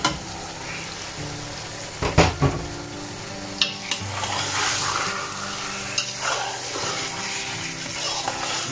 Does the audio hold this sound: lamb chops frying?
yes